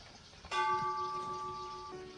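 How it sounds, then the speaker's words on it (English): A ceremonial bell rung once at a virtual International Day of Friendship celebration, its clear metallic strike ringing out and sustaining for over a second before being damped, close and moderately loud. "Ambassador Soares rang the bell"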